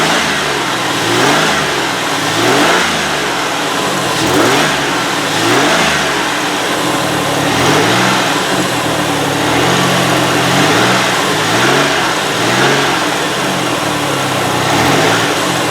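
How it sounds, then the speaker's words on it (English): A 2005 Ford Freestar 3.9L minivan engine runs loudly up close after an engine swap, its rhythmic pulsing rising and falling with revs, with a slightly uneven, rough note from an exhaust leak and possible misfire. "Got a little exhaust leak, but she runs."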